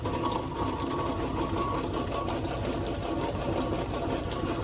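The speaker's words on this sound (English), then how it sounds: "Now we're just going to go ahead and take a little cut, face this off to smooth out that face on there." Metal lathe taking a light facing cut on cast iron, a steady mechanical whir and drone with a faint rapid chatter running continuously and fairly close, no talk over it.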